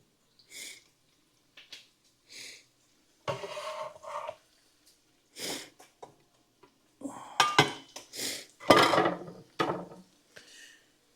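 Cut vegetables for Italian drunken noodles are dropped and scraped into a bowl, giving a series of scattered clinks, knocks and rustling clatters that grow busier toward the end, with no talk.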